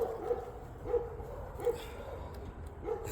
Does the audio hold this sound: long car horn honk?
no